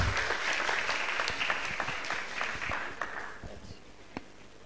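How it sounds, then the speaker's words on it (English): Audience applause at a book and arts festival event, a dense wash of many hands clapping that gradually fades toward the end, with a single sharp clap near the close. "Can we have a round of applause"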